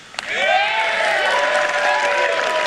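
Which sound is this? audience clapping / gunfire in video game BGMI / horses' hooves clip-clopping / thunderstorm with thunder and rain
audience clapping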